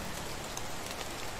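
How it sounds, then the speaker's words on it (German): Steady rain falls in the medieval game world of Medieval Dynasty, a dense, even hiss of drops on surfaces that carries on without a break. "Der Regen ist echt laut."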